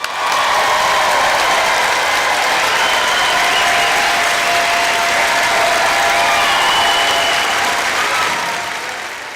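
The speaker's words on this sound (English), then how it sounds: "One more round of applause." A large crowd at the SUNY Plattsburgh School of Education, Health & Human Services 2024 spring commencement gives graduates a sustained round of applause. The clapping is loud and dense with faint cheering, then tapers slightly at the close.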